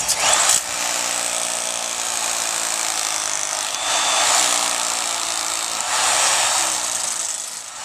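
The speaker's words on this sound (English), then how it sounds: "using a hammer drill with a 1/4-inch masonry bit, we drill the hole into the concrete" A hammer drill with a 1/4-inch masonry bit grinds into concrete in long, loud bursts, its harsh whine and rattling hammering continuing nearly without pause.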